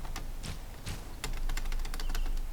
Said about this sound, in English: that's a loud clicky-clack keyboard